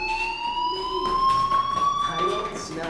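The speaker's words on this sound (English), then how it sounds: "Hey, do you hear that fire alarm?" A fire alarm in the Life Is Strange video game sounds a steady, loud, piercing electronic tone that keeps ringing for about three seconds, with faint game sounds underneath.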